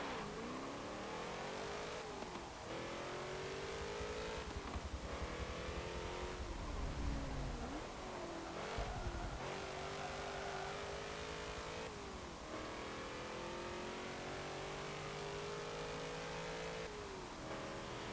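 A 2009 Holden HSV W427 V8 revs high around Bathurst in Forza Motorsport 7, climbing through repeated gear sweeps with short drops at each shift, loud and continuous with no talking.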